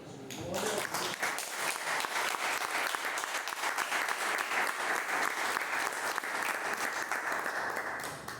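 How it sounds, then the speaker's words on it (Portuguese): Sustained, loud applause from a sizable church congregation at a celebration service, steady clapping filling the whole stretch after a brief onset, with no talk over it. "eu queria dar uma salva de palmas para essa equipe maravilhosa que trabalhou"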